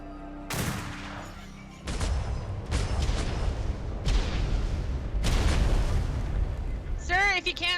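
Ship cannons firing a starboard broadside in a pirate roleplay game: five loud booming shots spaced about a second apart, each with a rumbling tail, ending with a brief burst of chirping.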